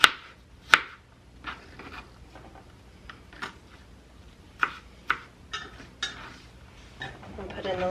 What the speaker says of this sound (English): These I'm just going to cut up.